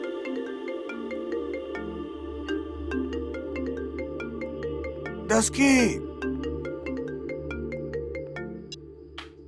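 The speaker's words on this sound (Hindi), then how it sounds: "फोन आ गया।" A phone ringtone plays a repeating melodic pattern of tones in a Hindi TV drama scene, steady and fairly loud. A voice speaks briefly over it and a short whooshing burst cuts in midway.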